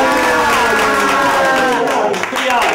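Studio audience at a Pakistani comedy show applauding loudly and steadily, dense clapping and crowd noise with cheering, mixed with a sustained tonal layer throughout.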